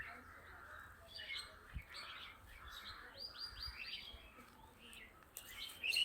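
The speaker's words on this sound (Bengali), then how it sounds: "শুধু কিছু পাখিদের কোলাহল।" Birds chirp, tweet and squawk in short scattered bursts on a quiet, foggy morning outdoors. The calls are faint and fairly distant against near silence, with a couple of louder calls near the end.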